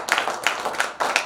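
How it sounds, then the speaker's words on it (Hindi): An audience at a Hindi poetry gathering in Indore claps in a short, loose patter of hand claps, fairly close and unaccompanied by speech. "एक बार ऊर्जा के साथ आप जोरदार हाथ दोनों तालियों से।"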